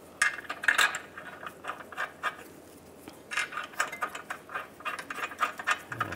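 Ball joint bolts being snugged up on a Volkswagen Beetle front hub, rapid clicking ratchet strokes in short bursts with brief pauses between, close and fairly quiet.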